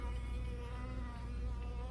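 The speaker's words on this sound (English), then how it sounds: "Still some robber bees coming out." Robber honeybees leaving a hive infested with small hive beetles and wax moths, giving a steady close droning buzz that holds at an even level throughout.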